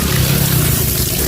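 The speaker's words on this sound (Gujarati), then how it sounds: "ફટાફટ મોટર ચાલુ કરીને પાણી મારી દઈએ" An electric motor pump runs and pushes out a strong flow of water, a loud, steady, close rushing and splashing that continues without a break.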